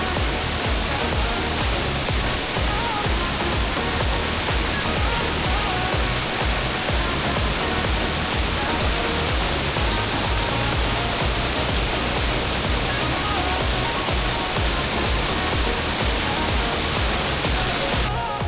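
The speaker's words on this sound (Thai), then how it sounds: "อันนี้ก็จะเป็นน้ำตกนะครับ" On the sixth tier of a nine-tier waterfall, water pours in a dense, unbroken roar close by, loud and constant throughout with no other sounds emerging.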